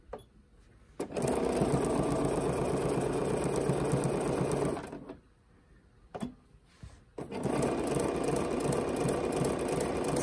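A Bernina sewing machine stitching on its own runs in a steady, close mechanical whir. It stops briefly midway, gives a couple of short bursts, then starts running continuously again.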